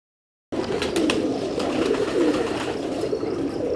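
Teddy pigeons of the Mistri Sahib breed coo in soft, low repeated phrases close by, set against a steady background hum and occasional light rustles, with no voices.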